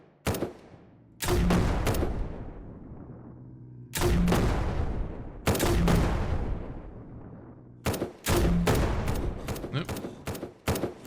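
Grenade launcher fire in the video game SurrounDead: several loud, close bursts of firing and explosive booms in repeated clusters, each trailing off into a decaying rumble between volleys.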